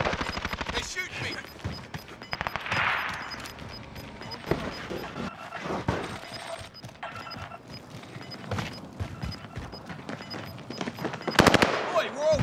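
In the Call of Duty: Modern Warfare video game, bursts of gunfire aimed at the player crack at close range, with rapid automatic volleys and scattered single shots under game noise and speech.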